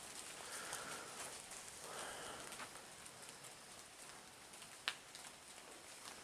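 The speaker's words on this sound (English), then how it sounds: "Started to rain a little bit" Light rain patters softly and continuously on a forest hiking trail, faint and diffuse, with one brief sharp click partway through.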